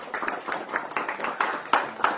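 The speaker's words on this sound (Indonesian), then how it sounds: "Tepuk tangan untuk Pak Dewan." An audience at a youth organisation talk on Indonesian democracy claps for a council member, with a short spell of moderate clapping and a few sharper, louder claps toward the end.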